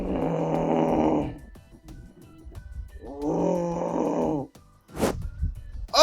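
A person imitates snoring, making two long, loud, rasping inhaled snores separated by a quiet pause, followed by a short sharp snort near the end.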